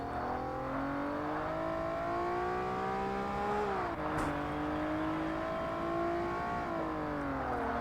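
A race car in the video game Forza Motorsport drones steadily at moderate volume. Its engine pitch rises through the gears, dips briefly under braking, then climbs again.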